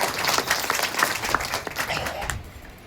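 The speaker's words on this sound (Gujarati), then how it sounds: "તાળી પાડો" Applause from an audience at a Gujarati religious satsang gathering, a dense burst of clapping that fades out over a few seconds, with faint voices underneath.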